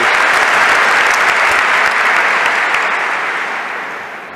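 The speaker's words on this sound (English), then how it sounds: "So big round of applause for the oldest university worldwide." Dense, loud applause from a graduation ceremony audience, a sustained wash of many hands clapping that slowly fades over a few seconds.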